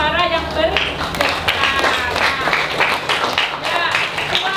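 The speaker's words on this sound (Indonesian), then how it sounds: "Ya, tepuk tangan" Repeated hand clapping during an elementary school lesson, a run of sharp claps heard under and between a teacher's continuous talking.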